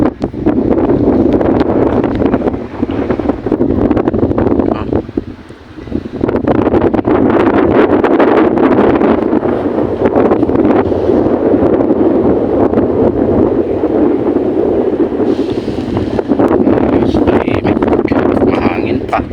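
Steady wind roaring and buffeting the microphone outdoors, loud and continuous with only a brief dip partway through.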